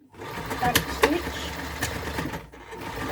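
A sewing machine back stitching a mini pillow case, a close mechanical whirring hum with sharp clicks and knocks, briefly cutting out near the end, with a voice speaking over it.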